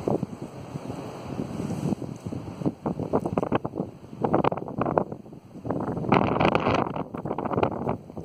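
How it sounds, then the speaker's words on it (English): Wind gusts across a waterside park on a blustery day, a steady broadband rush swelling and easing in strong surges that dominate the recording, with buffeting close against the microphone and no speech. "Wind just picked up too."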